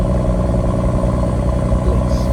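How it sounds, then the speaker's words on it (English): BMW M140i Competition, 335 horsepower, on a cold start, a loud deep rumbling burble at high revs, held steady and close for the whole stretch, with a voice partly mixed in. "335 horsepower out the bag, and listen to this cold start"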